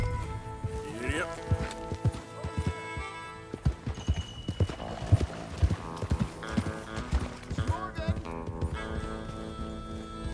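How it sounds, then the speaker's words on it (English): Horse hooves clip-clop at a steady run in the video game Red Dead Redemption 2, the rhythmic thuds continuing throughout beneath people talking and game music, with a brief whinny. "No, but I can ride a horse."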